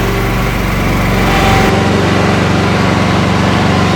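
A Razorback ride-on mower engine runs steadily and loud throughout, its even, continuous drone shifting slightly in pitch partway through as the engine settles into a new speed.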